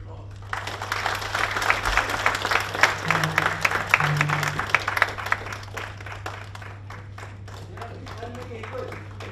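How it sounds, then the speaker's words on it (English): An audience applauds at the close of a lecture on China's Belt and Road and India, a lively burst of many hands clapping that swells, then tapers into scattered claps with a faint voice underneath. "So once again, a warm round of applause."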